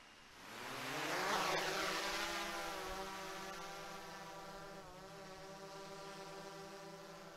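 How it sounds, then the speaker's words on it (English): Small drone lifting off and hovering outdoors, its propellers rising to a steady high whine with layered buzzing tones, loud at first, then holding a slightly fainter even drone as it climbs away. "I'm going to fire up my drone"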